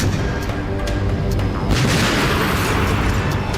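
K9 Vajra self-propelled artillery guns fire during a military exercise near Jaisalmer, a loud sustained rumbling boom with rolling low-end reverberation and a sharper burst partway through.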